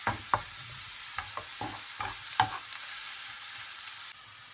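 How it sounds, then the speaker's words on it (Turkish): Food sizzling in a frying pan with onions, parsley and garlic, while a utensil clinks and scrapes in several short strokes over a steady hiss. "soğanlarımızı ekliyoruz maydanoz ve soğan ve sarımsak pidişte"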